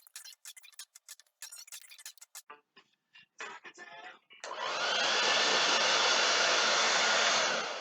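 A hair dryer blows steadily on a handmade craft roof project after a stretch of clicking and tapping noises, its loud, even whoosh continuing without a break.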